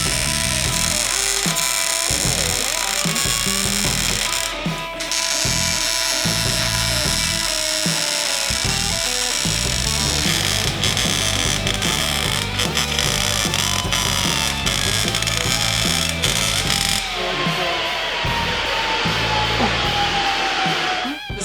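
A Miller-Matic MIG welder lays welds on rock sliders for a diesel Jeep Wrangler, giving a loud, continuous crackling buzz that barely pauses throughout.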